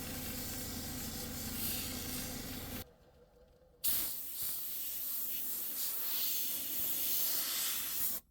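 Obsidian hisses against a 280 grit lapidary wheel in a loud, steady grinding wash that drops away briefly for about a second, then resumes until a sudden stop.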